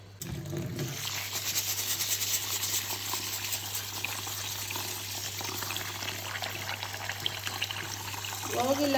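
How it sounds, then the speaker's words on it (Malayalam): Water is poured onto rice in a pot, making a steady, continuous splashing trickle that lasts several seconds, with a voice speaking nearby. "വെള്ളം തളിച്ച് വെക്കാം തീർന്ന് കുറച്ച് വെക്കാം"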